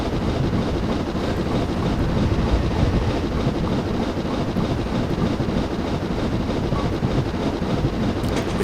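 Simulated train running in Train Simulator 2015 on a Somerset to Dorset route, a steady dense rumble with broad wind-like rush that holds evenly throughout, no talking.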